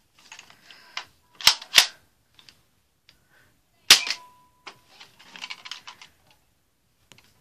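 A Nerf Dart Tag Sharp Shot blaster fires with sharp snapping clicks, two close together, then another a couple of seconds later, amid quiet handling rattles and fiddling; no talk.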